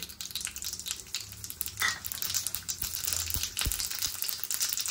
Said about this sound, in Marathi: तेल गरम झालेलं आहे, मोहरी घालते